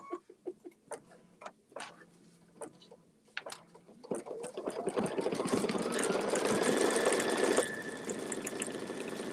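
A Kimberbell embroidery sewing machine stitches little circles, starting with scattered clicks and taps, then settling into a steady, fast mechanical whir of stitching that shifts pitch partway through, close and moderately loud.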